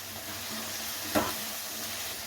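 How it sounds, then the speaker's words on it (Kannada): Carrots and beans fry in hot oil with a steady, even sizzle, broken once by a brief stir of the pan. "ಕ್ಯಾರೆಟು ಹುಳ್ಳಿಕಾಯಿ ಎಣ್ಣೆಲಿ ಚೆನ್ನಾಗಿ ಬೇಯಬೇಕು"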